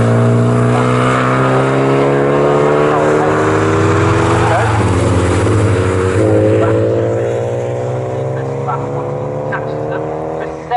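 Porsche race cars at Snetterton circuit roar past with a loud, sustained engine drone whose pitch slides downward as they pass, fading gradually into the distance while a commentator talks over it.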